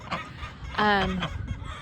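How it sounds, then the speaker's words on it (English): A backyard chicken gives a single drawn-out, throaty cluck close by, surrounded by softer scattered clucks and rustling from the flock. "So the chickens will have to just eat the feed out of the feeders."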